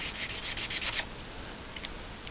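The chisel tip of an E00 skin-colour alcohol marker rubs across stamped paper in quick, soft scratchy strokes for about a second, then fades to faint hiss.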